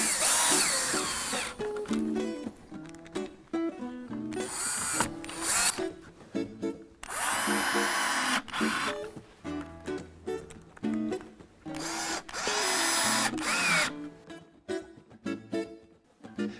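Power drill drives screws into southern pine chair slats in repeated bursts of whining motor, each run a second or two long with pauses and handling noises between, close and loud.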